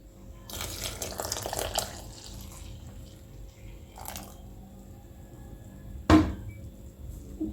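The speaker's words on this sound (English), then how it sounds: "Then I add the evaporated milk." Evaporated milk pours into a bowl of dry ingredients and beaten eggs while coconut bread batter is being mixed. A soft liquid splash runs for a few seconds near the start, then a brief louder clink or splash follows, close and fairly quiet.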